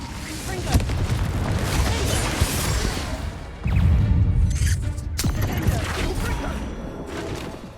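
Spell blasts from Incendio and Confringo in Hogwarts Legacy, a run of loud booming fiery bursts and crashes, with a heavy impact near the middle followed by sharp cracks, set against a busy background.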